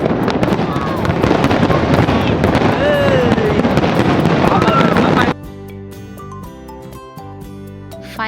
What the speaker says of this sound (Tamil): ஃபைனலாக பார்த்தீங்கன்னா ஃபயர் ஒர்க் வந்து நல்லா பார்த்து என்ஜாய் பண்ணியாச்சு